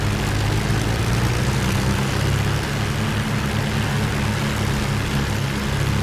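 A warbird aircraft's propeller engine runs up to 2,000 RPM, giving a loud, steady, close-up drone with a deep rumbling throb that holds constant for the whole stretch, with no voices.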